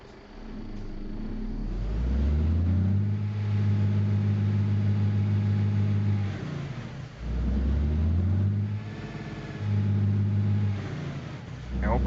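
Engine of a truck in American Truck Simulator droning and revving in waves, with the pitch climbing and dropping through several gear-like rises, loud and steady, with voices talking over it.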